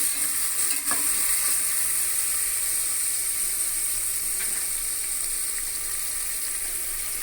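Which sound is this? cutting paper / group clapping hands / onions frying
onions frying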